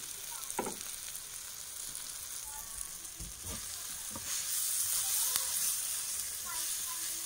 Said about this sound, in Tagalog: Haluin lang natin mga boss.